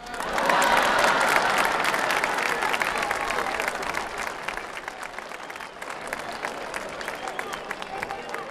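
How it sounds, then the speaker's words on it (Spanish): An audience at a solemn ceremony for Moquegua's 475th founding anniversary bursts into loud, full applause. It peaks right away, then slowly thins and softens over several seconds, with some crowd murmur mixed in. "¡Aplauso!"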